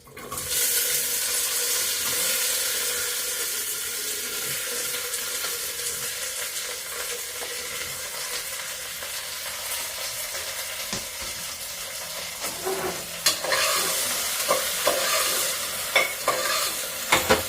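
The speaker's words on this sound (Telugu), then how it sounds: "ఈ తాలింపులో బెండకాయలు పచ్చడికాయలు వేసేస్తున్నాను ముందు" Steady loud sizzling of okra frying in hot tempering oil, continuous throughout, with occasional stirring clinks near the end.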